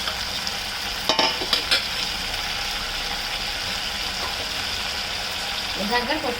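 Legume pieces simmer in tamarind pulp for a pickle, giving a steady close bubbling sizzle with a few brief stirring clinks and scrapes near the start and a short murmur of voice toward the end.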